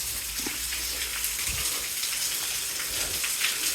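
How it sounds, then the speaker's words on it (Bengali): Rainwater pours down at a garden house with a duplex, a faint, even patter and wash of falling water that lasts a few seconds without talk. "বৃষ্টির পানিগুলো এখান দিয়ে পড়তেছে।"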